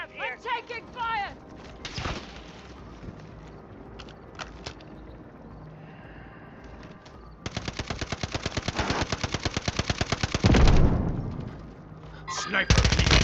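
Gunfire in a shooter battle-royale video game: scattered shots and bursts early, then a long loud rapid automatic burst around the middle and another near the end, with a heavy large-caliber round, over game voice callouts.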